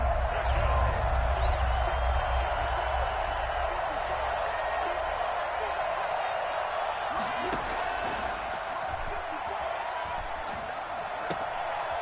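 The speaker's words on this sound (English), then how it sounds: "The crowd getting into it as we come up on a big 3rd down." Stadium crowd noise from the Madden 21 football video game swells ahead of a big third down, a steady broad roar of cheering with a voice talking over it.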